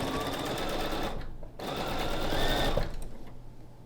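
A sewing machine chain-pieces small quilt pieces together, a steady, rapid mechanical whirr with two short pauses between runs of stitching, close and loud.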